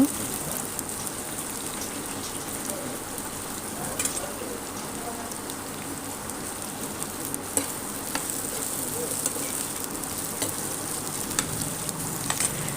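Onion and capsicum frying in a pan at home, a steady close sizzle with crackling spatter running throughout, with faint occasional clinks of stirring.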